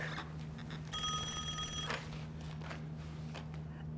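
An old-style telephone bell rings in one continuous burst of about a second, loud and close, over a steady low hum, with no talk during the ring.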